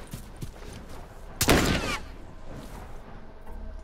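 A single loud gunshot from The Last of Us cracks out close by over a quiet game ambience, with a faint tail after the blast and small clicks around it.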